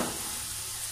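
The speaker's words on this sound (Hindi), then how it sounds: "हल्की हल्की प्याज भून चुकी है" Onions fry lightly in a pan, producing a brief, quiet, even sizzle up close with no voices.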